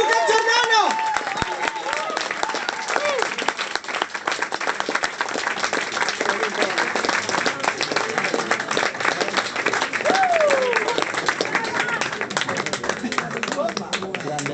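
Audience applause at a live blues concert at the Big Mama club, sustained clapping from a crowd that fills the whole stretch, with a singer's voice and a sliding tone rising briefly above it.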